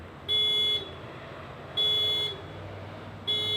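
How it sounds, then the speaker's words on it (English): Three loud electronic horn beeps from a 2017 Hyundai Santa Fe SE triggered by the key fob panic button, at steady intervals, each about half a second long with a high piercing tone, over faint background noise. "So it just beeps the horn and flashes the lights."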